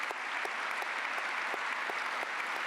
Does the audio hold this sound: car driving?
no